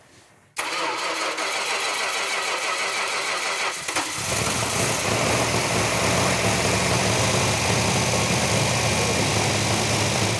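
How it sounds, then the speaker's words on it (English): A freshly rebuilt engine on a run stand cranks and fires up for the first time, catching abruptly and settling into a loud, steady roar that rises slightly partway through. "firing up that engine for the first time on the run stand"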